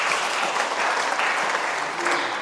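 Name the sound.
congregation applause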